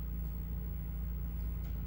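A steady low motor drone, like a lawn mower running outside, continuous and moderately loud throughout with no talking.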